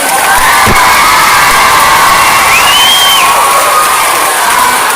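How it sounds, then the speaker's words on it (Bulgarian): A school concert audience cheers and shouts, children's voices prominent, a loud continuous crowd roar with whoops rising over it. "Дами и господа, моля, аплодисменти"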